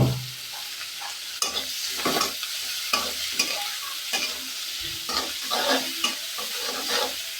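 Medium-sized shrimp hit a hot pan with spices and sizzle steadily while a utensil stirs and scrapes in repeated bursts, close and clear with no talking.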